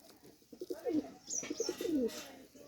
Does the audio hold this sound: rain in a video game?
no